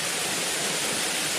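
Spring water tumbles over Kalanki waterfall in a steady, loud, broadband rush that fills the whole moment without pause.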